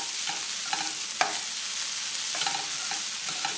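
A frying dish with tomato gets a quick stir in the pan: soft scraping and clinks of a utensil over a steady, moderate sizzle, with one sharper knock near the start and no talking.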